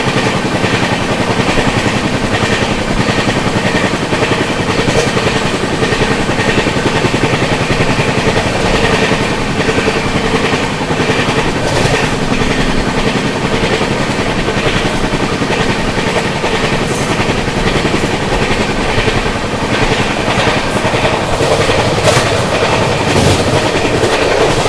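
The Begampura Express passenger train, running Jammu Tawi to Varanasi, rushes past close by with a loud, steady roar and rhythmic clickety-clack of wheels over rail joints, sustained throughout with no voices.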